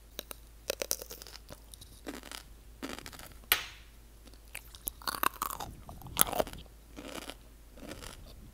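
Pickles being chewed and crunched up close as food ASMR, with a run of wet, crisp bites and munches in irregular bursts, loud and intimate, with no talking.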